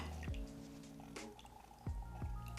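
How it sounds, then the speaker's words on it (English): Water drips out of a transparent ice ball press as the ice melts, a few distinct, close drops landing at irregular intervals over a soft liquid trickle, with no talking. "There's definitely a lot of water coming out of there."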